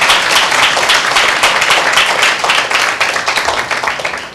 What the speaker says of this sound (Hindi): जितने लोग आनंदित हैं वे ताली बजाकर प्रभु की महिमा करेंगे।